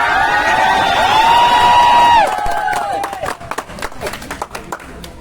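Audience at a Mi Lifestyle team event clapping for an invited leader: a sustained tonal voice or music passage gives way to scattered, sharp claps that thin out toward the end.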